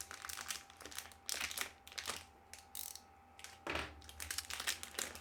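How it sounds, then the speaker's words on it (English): Cellophane wrap on an Ultra-Pro Deck Builder's Premium Pro-Binder is cut open and handled, giving quiet, close crackling and crinkling in irregular bursts with short pauses between them. "Yeah, just pretty stock standard cellophane wrap, whatever you want to call it. It's a bit noisy, apologies."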